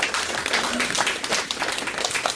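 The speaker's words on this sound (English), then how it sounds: "Let's give her a round of applause." An audience at a self-defense seminar applauds, a thick continuous patter of many hands at close range, steady through the whole span.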